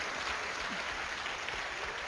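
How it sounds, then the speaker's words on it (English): A live studio audience gives a round of applause, steady and moderately loud, a continuous wash of clapping with no gaps across the short stretch. "Give him a round of applause."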